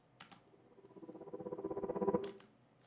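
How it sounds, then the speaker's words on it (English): A panning, volume-swelled riser opens a remix intro, a rapidly pulsing tone that grows louder over about two seconds and then cuts off sharply. "just a riser that's panning, or volume manipulated, so it sounds like this."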